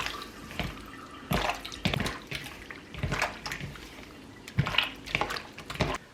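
Wet squelching and sloshing as calamari is mixed by hand with potato starch and a little water, uneven close splashes and slaps with no talking.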